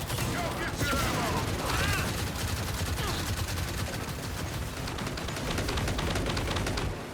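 Rapid gunfire fills a battle in the video game Gears 5, dense continuous bursts of shots with scattered impacts and mechanical clatter, sustained and loud across the scene.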